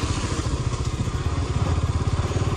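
A motorcycle engine runs steadily while riding on a foggy road, a close, loud, rhythmic pulsing throb with no talking.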